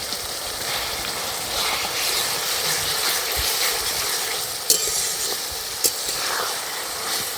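Chicken frying in a pan with salt and ginger paste, a steady close sizzle with light stirring scrapes and a couple of sharp utensil clicks, no talking.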